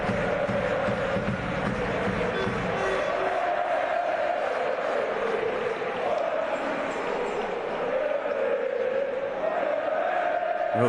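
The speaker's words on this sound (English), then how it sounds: "Well, Schio's fans cheering," Schio basketball fans cheering in an arena during a Dvtk vs Schio game, a dense, loud, sustained crowd roar that fills the space, with a commentator talking over it throughout.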